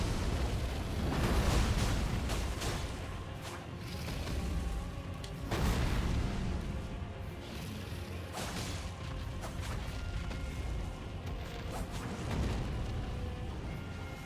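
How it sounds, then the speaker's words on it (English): Booming explosions from a dragon blowing up in the Elden Ring DLC, heavy rumbling bursts near 1.5 and 5.5 seconds with continuous loud crashing game noise between, no voices. "Now he's gonna go explode! Wow. Wow, look at you, big explodey dragon."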